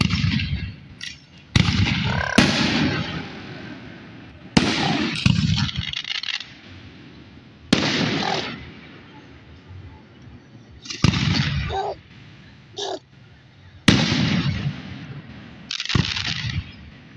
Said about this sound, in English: That's a really good fireworks show this year.